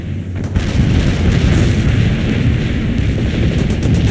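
Mortar barrage explosions from an insurgents combat video game, a continuous loud rumble of booming impacts that runs for about four seconds with no pauses.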